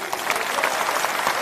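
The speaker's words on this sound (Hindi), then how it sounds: "एक जोरदार ताली" Applause rises from a hall audience at a statewide party workshop in Patna, a dense steady patter of many hands over the full stretch without pause.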